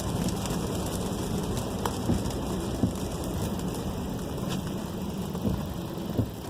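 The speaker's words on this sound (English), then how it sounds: "this car runs so well on a wet road in a rainy day like this" Steady rain patters over a VW Tiguan driving on a wet road, a continuous hiss of drops and tyre spray with faint engine noise beneath and a few sharper drop ticks.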